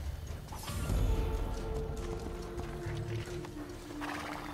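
A horse in Assassin's Creed Brotherhood moves with soft hoof clops and creaking tack, fairly quiet and close, with faint background ambience and no talk.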